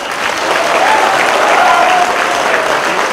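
Crowd at a stunt artists' association meeting clapping loudly and steadily for a few seconds, a full, even burst of applause close by.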